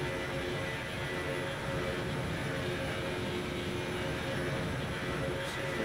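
Jet engines of an Airbus A380-841 in Lufthansa livery in Microsoft Flight Simulator give a loud, steady broadband roar with a constant whine on top, unbroken and close throughout.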